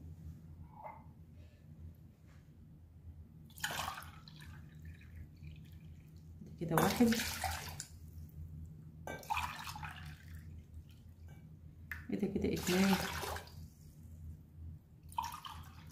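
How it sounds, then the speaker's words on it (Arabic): Three cups of water are poured one after another into a container while preparing a drink, each pour a short splashing burst spaced a few seconds apart, with someone speaking quietly between them. "هننزل على الكميه ديت ب3 كوبايات ميه"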